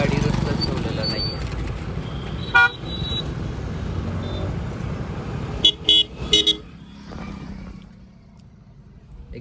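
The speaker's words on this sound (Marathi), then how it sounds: "हा जे 2 व्हीलरवाले आता चालल्यात, सगळा रोड पॅक करून टाकलाय तिथं" A roadside traffic jam of two-wheelers and cars, with a state transport bus and conductors nearby. A constant engine rumble runs under voices, broken by several short horn toots and a cluster of honks near the end.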